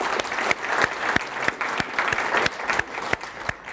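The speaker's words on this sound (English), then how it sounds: "that deserves a round of applause" A city annual update audience gives loud, close applause, a thick wash of clapping with sharp individual claps punctuating it at a fairly regular pace.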